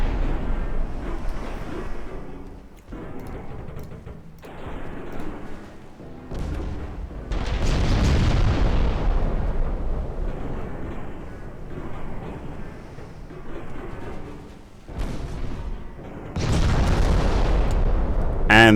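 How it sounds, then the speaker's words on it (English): A warship in a naval war game blows up and breaks apart, heavy booms and rumbling blasts rolling in waves, loud and close. "And the ship eventually breaks apart."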